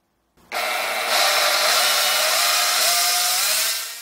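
An electric drill motor spins up sharply and runs for about three seconds with its pitch shifting under a variable speed trigger, loud and close with no talking, then winds down.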